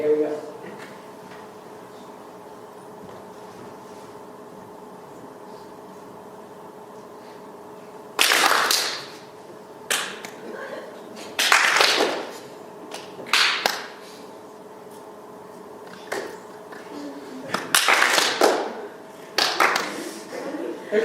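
An audience claps in short, scattered bursts in response to cues during a prefrontal cortex brain test, with quiet stretches between the bursts and a steady low hum underneath.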